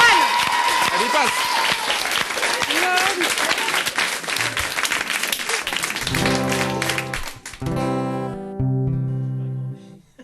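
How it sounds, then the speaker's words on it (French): A TV studio audience at a French variety show applauds loudly for several seconds with some crowd noise, then the clapping gives way to a musician tuning up with sustained, steady tones. "on les applaudit bien fort"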